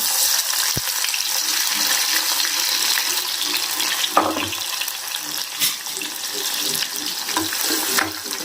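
Chopped onion hits hot oil already crackling with mustard seeds and cumin, giving a loud, steady sizzle and spatter with a few sharp pops and stirring scrapes near the pan.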